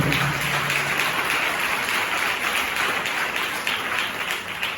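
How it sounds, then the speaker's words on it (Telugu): A church congregation at a Sunday service in Chennai claps loudly and continuously, a dense, even patter of many hands with no pauses. "చప్పట్లు కొట్టండి గట్టిగా."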